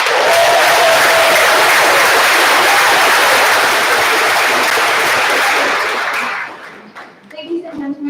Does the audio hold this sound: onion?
no